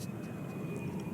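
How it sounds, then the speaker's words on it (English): Airplane passing directly overhead: a steady low broadband engine roar, continuous and moderately loud, with a faint thin tone above it. "hopefully you can't hear the airplane directly overhead"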